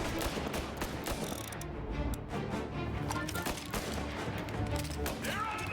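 Dense gunfire in Mafia: Definitive Edition, with rapid overlapping shots and bursts that run almost without a break, loud and close, and a voice calling out over part of it.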